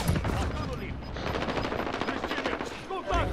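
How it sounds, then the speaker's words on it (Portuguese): Dense, rapid automatic gunfire from Call of Duty: Modern Warfare fills the clip, loud and continuous with overlapping bursts and fainter battle noise beneath. "Tô atirando na frente."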